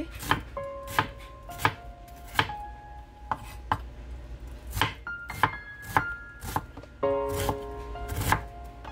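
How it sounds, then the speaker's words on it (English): A knife chops red onion on a board for fresh salsa, making crisp, uneven close-up chops in a steady working rhythm with a few ringing knocks. "Now I'm gonna go cut red onion"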